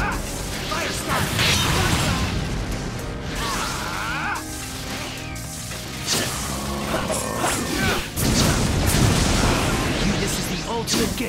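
Fire-style fireball explosions in a video game burst out as repeated loud crashes and booming blasts, one after another, mixed with shouting voices.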